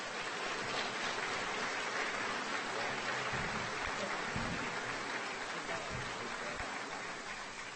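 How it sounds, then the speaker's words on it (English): An audience at a regional leaders' retreat breaks into applause, a dense, even wash of clapping that holds steady for several seconds without any talk. "So let's give these folks a round of applause."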